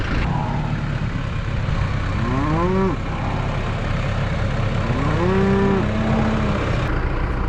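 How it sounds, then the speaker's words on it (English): Hungry cattle on a Midwest farm moo loudly twice, each call a long rising-then-falling bellow, over a steady low rumble of machinery or engine noise. "we're helping out and feeding his cows"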